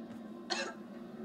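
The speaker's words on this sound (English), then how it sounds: "What are you coughing about?" A single short, faint cough bursts out once, quiet and close, with no talking around it.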